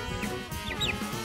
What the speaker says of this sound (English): We've got three baby chickens.